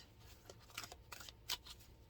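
Soft papery riffles and brief flicks of cards being shuffled, a few quick bursts close by with quiet gaps between.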